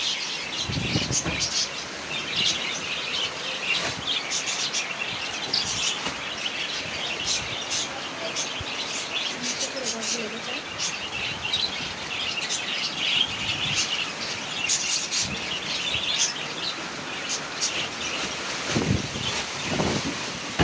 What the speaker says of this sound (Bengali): বৃষ্টির কারণে বাতাসে থাকা যাচ্ছে না বারান্দায় প্রচুর বাতাস